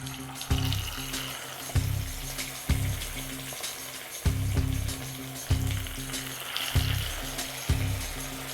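Fish pieces dropped one by one into hot oil for a Tamil-style fish fry, each landing with a sharp hiss that swells into steady sizzling, repeating at roughly one-second intervals over a continuous crackling bed, close and fairly loud.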